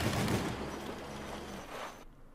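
Vehicle-mounted guns fire in the armored-vehicle combat game Crossout, a dense burst of rapid booming shots and engine roar that thins out and cuts off near the end.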